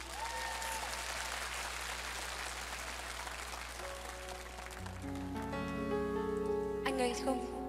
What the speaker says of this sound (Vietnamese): Mọi người vỗ tay làm nhạc cho em đi.